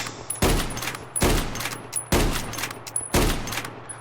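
A lever-action rifle fires in a Minecraft gun mod: four sharp, loud shots spaced evenly about a second apart, each with a short decaying tail.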